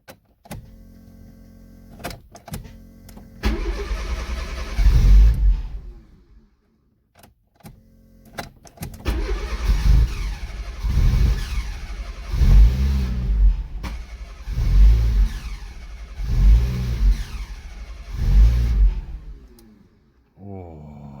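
A Fiat Cinquecento Turbo cranks and fires, its engine surging in a series of loud, rhythmic revs between bursts of starter whirring, heard close with short pauses between attempts.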